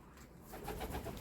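Pigeons coo softly at a loft, a short run of low rounded coos growing slightly fuller toward the end, faint and close with no voices.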